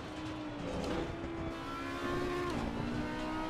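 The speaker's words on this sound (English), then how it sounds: "this Audi sounds pretty nice, actually." Audi GT4 race car engine in the Assetto Corsa Competizione racing game, a moderately faint steady drone with a couple of small pitch dips as it shifts, heard alone without talk.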